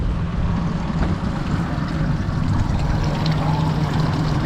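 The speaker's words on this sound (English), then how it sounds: "I'm going to help it with the main motor. I'm going to spin this thing around." Main motor of a 20 ft Seahawk boat running steadily while the boat is swung around, a continuous low rumble mixed with washing water, close and unbroken, with no talk.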